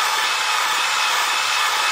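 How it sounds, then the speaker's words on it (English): A drill spins a hone inside an engine cylinder lubricated with soap and water, giving a steady, loud, hissing abrasive whir that holds evenly throughout. "Slow the drill down and go faster up and down."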